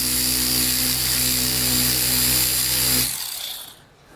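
A car paint polisher buffs a panel with a steady, close motor whine and hum for about three seconds, then winds down and fades out.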